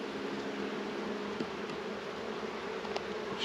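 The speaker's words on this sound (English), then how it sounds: "So we put a lot of bees in here." Honeybees buzzing around a hive box, a steady close drone of many insects at an even level throughout, with no speech.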